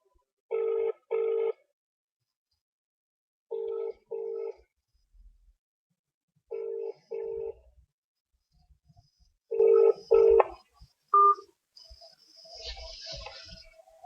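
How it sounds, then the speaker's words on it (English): Telephone keypad tones sound in short paired beeps, four separate bursts spaced a few seconds apart and close by, followed by faint rustling and a little low talk near the end. "I'm actually dialing them now."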